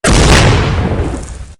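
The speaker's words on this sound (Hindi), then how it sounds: "और उससे पहाड़ी गुफा की एक दीवार में भयंकर विस्फोट हुआ।" A massive explosion blasting through a mountain cave wall, a loud booming burst that hits at once and then rumbles away over about a second and a half.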